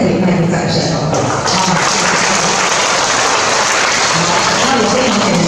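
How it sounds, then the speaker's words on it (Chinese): An audience claps together at the opening tea reception of an oil painting association's member exhibition, a loud sustained round of applause lasting the whole stretch, close and dense. "我们再给他一个掌声哦。"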